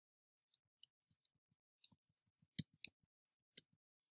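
A password is typed on a computer keyboard, giving sparse, soft, crisp key clicks in an uneven rhythm, about a dozen presses over a few seconds, close by in an otherwise quiet room.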